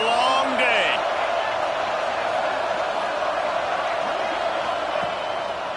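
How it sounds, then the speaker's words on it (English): Loud roaring stadium crowd from the College Football 26 video game, a sustained wall of noise with a commentator talking over it and brief whistle-like tones early on. "This crowd, full throat, splitting the eardrums and letting them know it's going to be a long day."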